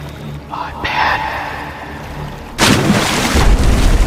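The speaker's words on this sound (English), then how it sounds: "Suddenly, a splash in the water startles him further." A sudden loud splash in river water bursts in partway through and continues as a broad, rushing wash after a quieter stretch, under a dramatic narration-style soundtrack.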